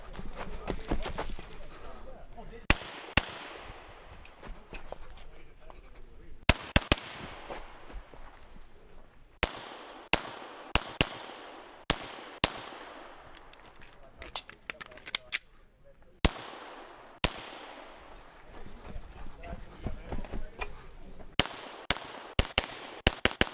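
Pistol shots ring out at an IDPA shooting match in Cleveland, Tennessee, some sharp and close, others fainter from nearby bays, in scattered strings over a low outdoor background murmur.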